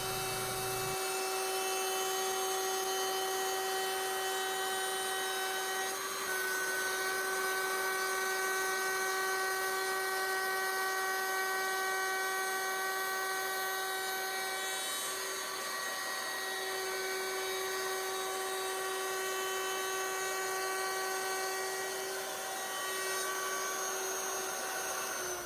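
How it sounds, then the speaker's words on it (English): Power tool cutting a decorative chamfer around the edge of a wooden box lid clamped in a vise: a loud, steady high-pitched whine that runs continuously and close throughout. "I'm going to put a chamfer on it all the way around for decoration"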